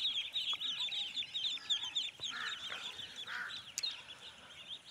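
A crowd of black-billed, black-footed ducklings in baskets at a duck breeding farm peep constantly in high, overlapping chirps, close and busy, with no talk over them.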